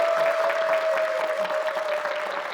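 A studio audience at a televised policy talk with a government minister applauds steadily throughout, the crowd clapping evenly over a faint, constant tone.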